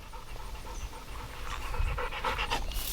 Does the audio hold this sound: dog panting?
yes